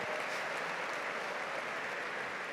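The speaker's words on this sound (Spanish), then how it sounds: "Un fuerte aplauso a la gente de multimedia," Short round of steady audience applause for the multimedia team at a church congress, many hands clapping evenly, moderately distant and without talk.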